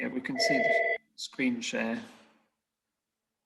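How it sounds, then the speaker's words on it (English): A telephone rings with steady warbling electronic tones that repeat in two bursts, heard under and between people talking on a call. "Excuse the phone."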